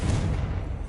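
A Confringo blasting spell goes off in Hogwarts Legacy, producing a short, heavy explosive boom with a deep low rumble. It stays loud and close across the brief moment and fades only slightly.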